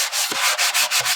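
Fine sanding paper rubs back and forth across painted wood in about seven quick, even strokes, a close, loud, rhythmic scratchy sweep with no talking.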